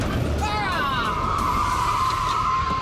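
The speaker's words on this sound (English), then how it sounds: "Is driving at speed in reverse as easy as the movies make out?" Car driving fast in reverse and losing control, tires squealing in a long rising then sustained screech over a rough engine and road roar, loud and close.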